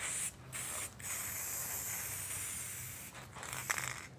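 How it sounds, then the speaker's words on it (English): Spray paint hissing from an aerosol can onto epoxy, a steady close spray with a few short breaks between bursts, no talking. "I sprayed it on epoxy that has wet alcohol sitting on it and then just some dry"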